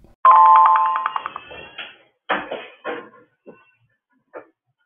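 An XTU J7 video doorbell camera sounds a motion-detection alert. A bright electronic chime tone rings first, followed by several short clattering, tonal blips with silence in between, close and clear with no talking.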